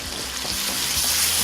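Almond halwa fries in ghee in a pan, giving off a steady close sizzle while a spoon keeps stirring it, with no voices.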